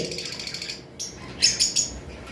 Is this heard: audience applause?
no